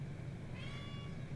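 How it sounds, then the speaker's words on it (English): A cat meows in a short, quiet call that rises over a steady low background hum, with no one talking. "my cat was meowing"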